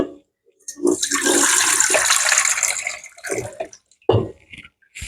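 Milk and water splash into flour in a bowl for dough, a rushing pour lasting a couple of seconds, followed by short trickles and a brief final splash.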